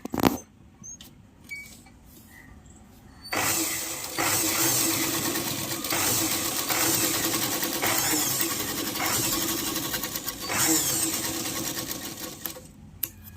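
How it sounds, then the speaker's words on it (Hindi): Electric sewing machine stitching a six-panel petticoat belt, starting after a few seconds of quiet handling and then running in a steady, close, rapid whirring hum for about ten seconds, with slight speed changes and no talk. "तो मैं यहीं पे सिलाई कर लूँगी"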